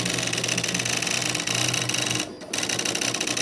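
A loud vintage printer at work, giving off a fast, continuous mechanical chatter of rapidly repeating strikes with a brief dip partway through before the clatter resumes at full volume.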